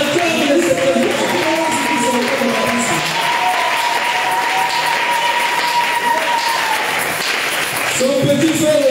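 A church congregation at a Tuesday worship service breaks into sustained, loud applause and cheering to acclaim the Lord, a dense clapping roar that holds steady for about nine seconds, with voices shouting and singing through it.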